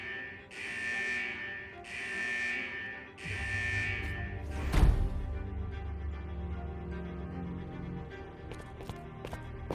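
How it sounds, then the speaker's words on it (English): A central vault alarm in the video game Wuthering Waves blares in three loud, evenly spaced buzzing pulses, then gives way to a low droning hum with a sharp impact and scattered clicks. "Is that the central alarm of the vault?"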